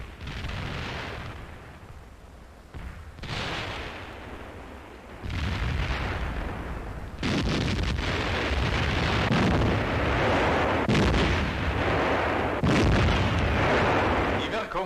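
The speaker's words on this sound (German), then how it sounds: "Die Wirkung des Artilleriefeuers." Artillery fire in a German training film, heavy booming blasts and rolling rumbles that swell and fade in waves, growing louder and denser toward the end over a constant wash of old film noise.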